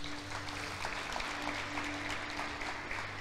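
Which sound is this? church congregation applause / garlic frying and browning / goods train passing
church congregation applause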